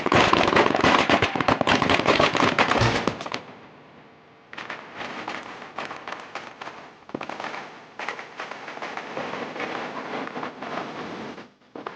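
Firecrackers set off for a celebration burst in a loud, dense crackling barrage. The noise pauses briefly, then resumes as a continuous stream of close, rapid pops.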